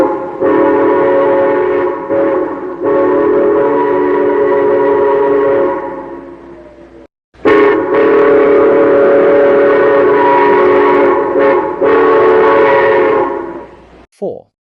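A chime-like train whistle sounds in two long, loud blasts, each held for several seconds, separated by a short silence, with no other sound around them.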